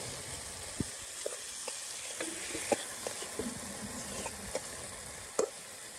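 Chicken pieces fried in spices for bhuna khichuri sizzle steadily in a pan, with repeated scrapes and taps as they are stirred, close up and with no talking.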